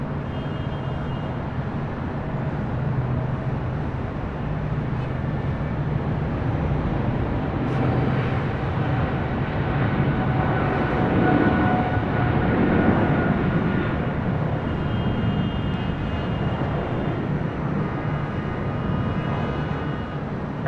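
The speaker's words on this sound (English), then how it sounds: "Next takeoff happening now on 25 right on the south side" A jet airliner takes off from runway 25 Right at LAX, a steady broadband engine roar holding loud and constant throughout, swelling slightly near the middle with no speech over it.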